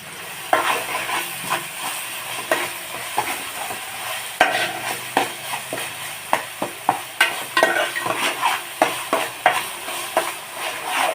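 Curry leaves and ginger garlic paste fry in hot oil for a crab dish, giving a steady close sizzle broken by frequent sharp crackles and spoon-stirring clicks, with no one talking.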